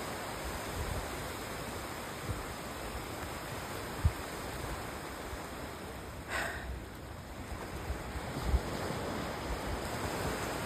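Sea waves at Kashid Beach, a continuous broad wash of surf roaring steadily at close range, with faint wind and a few soft thumps, no talking.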